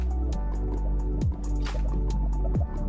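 Lava poured from a bucket in Minecraft gives gloopy, dripping liquid sounds over a steady low game hum, with a couple of bubbling squish bursts.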